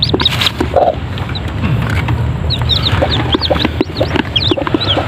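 Newly hatched chicks peep in quick, high, repeated chirps while nearby chickens cluck steadily underneath, all close and fairly loud with no talking.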